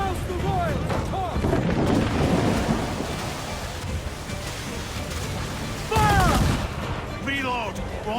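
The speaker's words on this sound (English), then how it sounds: "Look, they fire mortars, Captain!" Naval battle in Assassin's Creed Black Flag, with heavy booming ship cannon and mortar fire, deep rumbling blasts layered over a constant roar, a louder burst near the end, and shouted voices mixed in.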